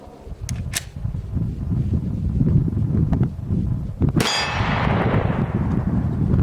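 9mm FMJ bullet striking an angled steel plate during a body armor test: faint metallic pings, then one sharp, loud clang that rings out, all over steady background hum.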